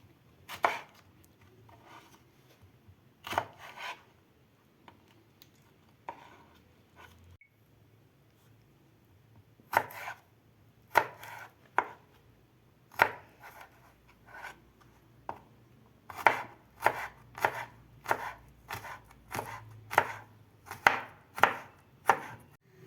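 A knife chops garlic cloves sharply against a cutting board, first in scattered single strokes, then in a quicker steady run of cuts near the end.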